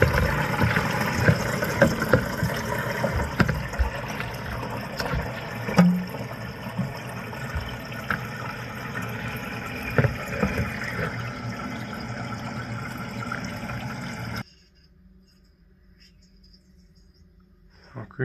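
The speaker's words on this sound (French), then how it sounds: "on va ouvrir le robinet, on va laisser remplir." Water rushes steadily into a wall-hung Geberit toilet cistern for around fourteen seconds, then stops abruptly, leaving near silence.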